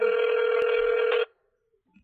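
Ringing phone tone in the Deadpool VR game, a steady loud electronic ring lasting about a second and a quarter, then cutting off into near silence.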